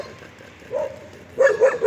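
Two dogs barking in short bursts, one brief bark and then a louder cluster of yips a moment later, fairly close with a quiet background.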